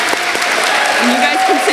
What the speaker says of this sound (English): You guys can clap for them all now.